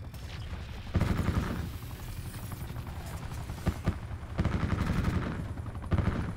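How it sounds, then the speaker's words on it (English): Attack helicopter in Call of Duty Black Ops 4 firing, bursts of rapid gunfire over a continuous rotor drone, moderately loud with repeated sharp volleys. "the attack helicopter's popping off"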